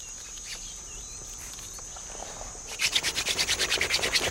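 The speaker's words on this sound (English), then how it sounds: "this drill is so good that they can go to almost any tree, break off a dead branch and make fire" Wooden fire drill made from a dead branch is rubbed rapidly, giving quick rhythmic scraping strokes, about a dozen in a row, close and fairly loud after a quiet stretch of faint insect hum.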